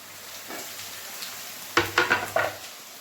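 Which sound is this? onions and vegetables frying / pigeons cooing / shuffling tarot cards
onions and vegetables frying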